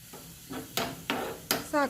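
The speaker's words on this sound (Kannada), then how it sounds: "ಗೋಲ್ಡನ್ ಕಲ್ಲರ್ ಬರ್ನ ಮುಟ್ಟ ಫ್ರೈ ಮಲ್ಪೋಡು" Onions for a Mangalore fish curry tempering fry in hot oil and are stirred toward golden, with bursts of sizzle and scraping spoon strokes over a steady hiss; a faint voice is heard briefly.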